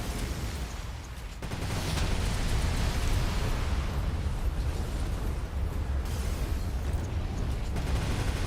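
Fireworks in the action game Devil May Cry 5 burst as a dense, continuous rumble of loud crackling explosions that keeps going for several seconds, with no speech.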